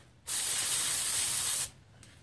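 Brake parts cleaner sprays onto car brakes during a pad swap: one loud, steady aerosol hiss lasting under two seconds, starting and stopping sharply, close to the listener.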